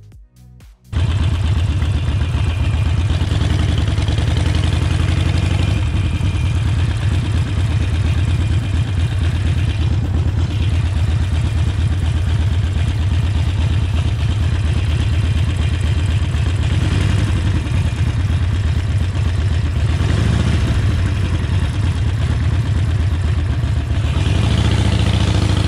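A motorcycle engine runs loud and close as the rider pulls away in first gear, a steady unbroken rumble after a brief quiet start, with no talking.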